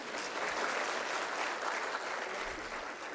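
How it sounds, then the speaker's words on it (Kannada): Steady, dense applause from an audience at a public speaking event, filling the whole stretch at an even level with no talk over it. "ಸ್ವಲ್ಪ ಜೋರಾಗಿ ಚಪ್ಪಾಳೆ ಹೊಡಿಬೋದ್ರಿ"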